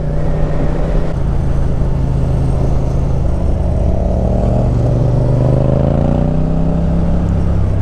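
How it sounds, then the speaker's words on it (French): A motorcycle engine runs loud and close for the whole stretch, rumbling steadily and rising in pitch as it revs up near the end. "ça fait plaisir de l'entendre un petit peu chanter sa moto"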